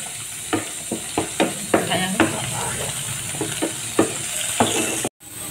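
Shrimp with turmeric and salt fry in a pan with onions, giving a steady close sizzle with a regular series of spoon scrapes and stirring knocks against the pan, ending in a brief gap.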